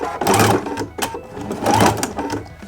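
A sewing machine stitches quilt binding on the diagonal, a loud close rapid mechanical chatter running in bursts with short pauses between runs of stitching.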